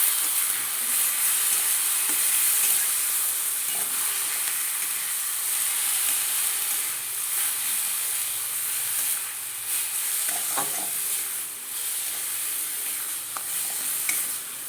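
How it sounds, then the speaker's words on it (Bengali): Dusted pumpkin pieces stirred and fried in a pan over a high flame, giving a steady loud sizzle and hiss throughout with occasional scraping stir sounds, no voices. "দেখুন, এবার এটা হাই ফ্লেমে আমি নেড়ে নেব।"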